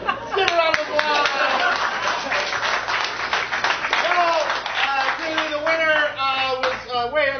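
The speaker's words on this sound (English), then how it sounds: "Give a round of applause." An improv show audience applauds in dense, lively clapping mixed with cheering and an excited voice talking over it throughout.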